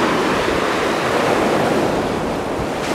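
Waves break steadily on a pebble beach south of Tokyo, a continuous close wash of surf with some wind rumble and no voices.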